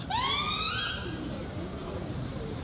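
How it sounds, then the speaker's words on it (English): An ambulance siren wails in a rising sweep, loud and near at first, then fades into open street noise at an outdoor speakers' corner. "We got an ambulance coming."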